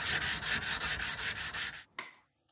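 A knife blade is sanded on a belt sander in quick, rhythmic strokes, about nine of them, with a harsh rasping hiss. It stops abruptly, followed by one brief scrape.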